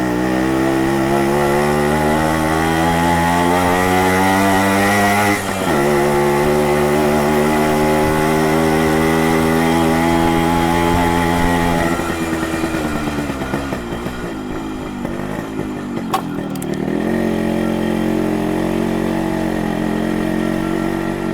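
A motorcycle with a sharp, tuned exhaust is held at a high, rasping rev close by. The pitch drops and the engine revs again through a run of quick throttle blips before it settles back to a steady idle.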